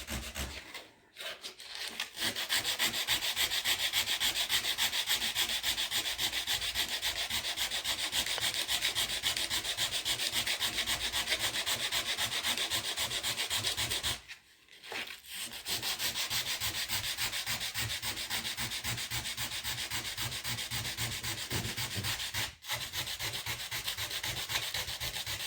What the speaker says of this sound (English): That will just help lubricate it, and then gently sand back the repair.